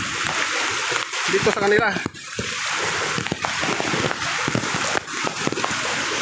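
Strong floodwater current from a typhoon in Montalban, Rizal rushes and splashes steadily as a broad, loud wash, with people talking over the flow throughout.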